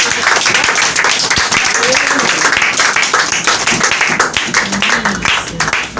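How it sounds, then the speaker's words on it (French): Church congregation applauding at a testimony gathering, a dense, steady wash of many hands clapping at close range throughout, with voices mixed into the crowd noise. "Il faut applaudir à Dieu."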